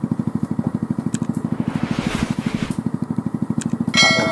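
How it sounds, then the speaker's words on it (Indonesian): A car engine fitted to a homemade helicopter built from scrap parts runs close by in a fast, steady, chugging pulse, with brief clicks and a louder crackling rise near the end. "Nah, mesin mobil sudah nyala, mesin motor nyala semua."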